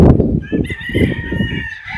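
Chickens cluck and crow close by, a rooster's calls over a busy farmyard of clucking hens.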